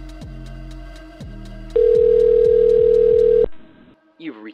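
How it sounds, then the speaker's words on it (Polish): A telephone call connecting: a repeating series of electronic tones, then a loud steady tone that holds for nearly two seconds and cuts off, leaving faint line noise before a voice starts briefly at the end. "Słyszymy dźwięk połączenia telefonicznego."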